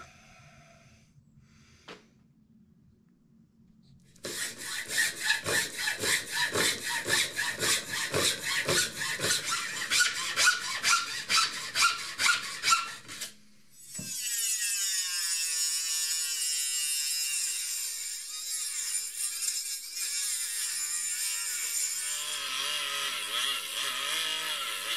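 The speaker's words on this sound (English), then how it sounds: "I'll put that on the belt sander" A belt sander grinds wood in a boat workshop: a steady, loud, rasping whir that runs for several seconds, cuts off, then gives way to a higher, whining abrasive hiss that carries on to the end, close by with no talk.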